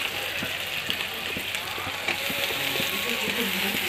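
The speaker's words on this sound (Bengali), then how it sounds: "টমেটোটা দিলাম, দিয়ে নাড়াচাড়া করছি।" Fish curry with freshly added tomato bubbling and sizzling steadily in a pan while being stirred, with soft scraping knocks from the spoon repeating throughout at close range.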